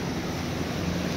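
Flood water from an overflowing river rushes across a road in a steady, dense roar, broadband and continuous with no pauses.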